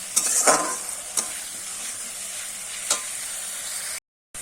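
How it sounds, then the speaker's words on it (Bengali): Onion paste is stirred and fried in a pan, a steady sizzle under a few scraping strokes of a spoon, loud at first and then quieter, with no talk. "এবার পেঁয়াজটাও কিন্তু একটু নাড়িয়ে চাড়িয়ে কষিয়ে নেব যতক্ষণে না কাঁচা গন্ধটা চলে যায়"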